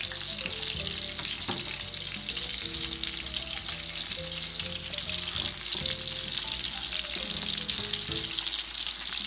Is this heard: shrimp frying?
yes